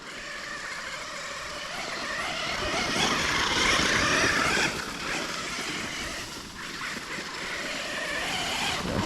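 A Losi Super Baja Rey 2 RC desert truck, hop-up tuned, runs across a garden with a continuous buzzing, whirring drive that swells in the middle, then eases and builds again, up close and steady.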